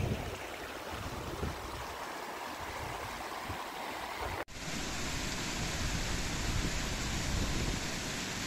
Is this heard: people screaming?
no